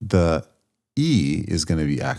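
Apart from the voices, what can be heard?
None of the usual background noises is heard.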